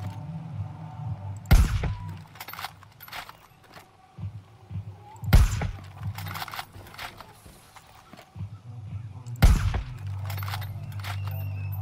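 Three loud, sharp sniper rifle shots ring out in Far Cry New Dawn, spaced about four seconds apart, each a sudden crack with a short tail, over a low game background hum.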